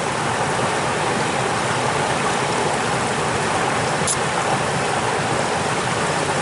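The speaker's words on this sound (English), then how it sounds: "Sound of the running water" Running water of a creek at Aroona Glen in NSW/QLD, a steady, broad rushing wash that stays even throughout, close and continuous with no talk.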